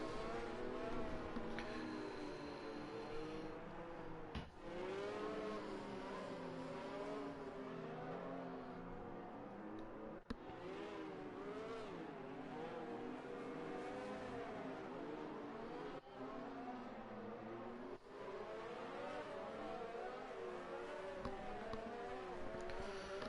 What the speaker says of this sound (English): the cars are taking the grid